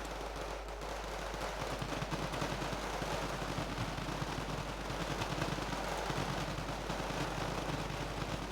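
Dense, continuous machine gun and assault rifle fire in the Wargame Red Dragon video game, rapid overlapping bursts forming a steady roar of battle throughout.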